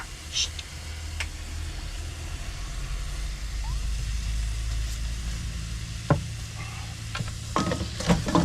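Half a bell pepper sautés in oil in a pan inside a camper van, with a soft continuous sizzle over low rumble, broken by a few sharp clinks and scrapes of stirring toward the end.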